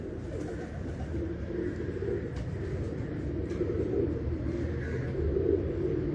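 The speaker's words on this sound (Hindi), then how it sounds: "ये 72 नंबर कबूतर है जी।" A pigeon coos repeatedly in a building loft setup, soft and steady against a constant low background hum, with no one speaking.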